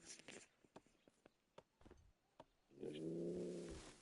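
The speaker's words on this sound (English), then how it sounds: "You guys can hear the cat growling." A cat growls in the medieval city-building game Kingdoms and Castles: a low, steady, rumbling growl rises after a run of soft clicks and taps, close and quiet.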